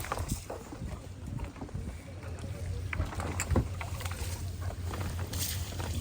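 Fishing boat at sea off the Sundarbans, its engine running as a steady low drone beneath wind noise and water splashing against the hull, with occasional knocks.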